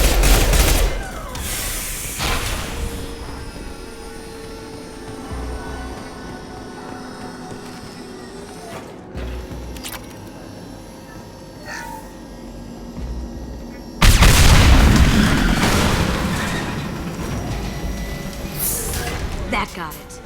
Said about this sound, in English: It'll take heavier weapons than that to blow those tanks.